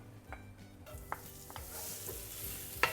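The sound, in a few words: chopped young ginger frying in oil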